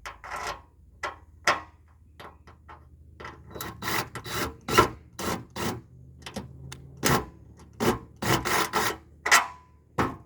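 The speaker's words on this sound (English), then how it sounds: "If you're tapping into something really thick, it's good to tap in a little, back it out." A tap is worked into a thick canoe frame on an Expandacraft outrigger canoe kit, cutting threads in short bursts. It gives irregular, sharp, close scraping and clicking strokes, separated by brief pauses, with no talking.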